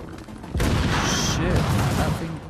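A sustained burst of automatic gunfire in The Division, loud and dense, starting abruptly and filling most of the moment.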